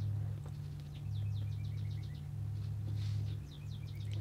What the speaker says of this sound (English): I got the window shut, and I can still hear that bird.